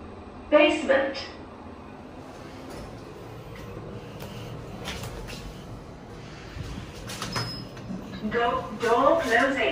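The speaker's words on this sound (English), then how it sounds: "Door closing." Doors of a Toshiba Spacel-III machine-room-less carpark lift slide shut with soft rolling and rattling noise over a steady cabin hum, with short announcement voices at the beginning and end.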